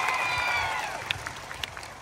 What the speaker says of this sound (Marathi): त्या माणसासाठी एक टाळ्या, सगळ्यांसाठी टाळ्या वाजवा